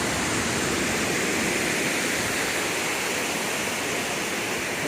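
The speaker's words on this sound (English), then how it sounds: "This is one of the falls on Thomas Creek." Waterfall on Thomas Creek in Lamoille Canyon, a steady, loud broadband roar of falling water that fills the whole stretch without pause and with no voices.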